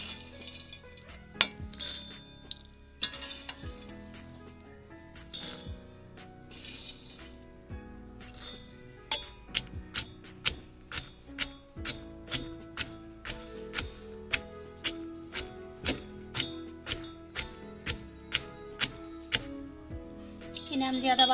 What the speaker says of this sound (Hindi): इन्हें हम ओखली में डालकर हल्के हल्के से कूट लेंगे